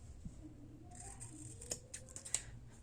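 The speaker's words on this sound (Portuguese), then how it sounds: "então dá pra cortar essa pontinha aqui fora" Scissors snip the pointed tip off a knitted bikini cup: a few quick, crisp close-up cuts clustered near the end, over a quiet room.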